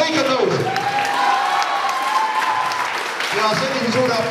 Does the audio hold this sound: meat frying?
no